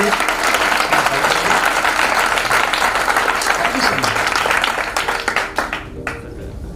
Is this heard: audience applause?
yes